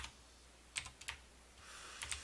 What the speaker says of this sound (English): let's just type that up here